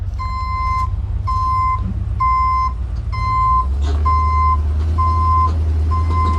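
A truck reversing with its backup beeper, a steady series of loud, evenly spaced tonal beeps over a low diesel engine rumble, heard near and alone.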